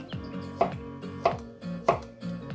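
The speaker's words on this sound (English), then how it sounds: "we'll be using one zucchini or courgette just cut into chunks" A knife cuts a zucchini into chunks on a board, three sharp chops landing at an even, unhurried pace, close and clear over faint background music.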